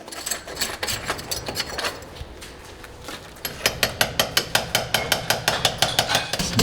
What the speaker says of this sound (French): On dépose au marteau et au burin.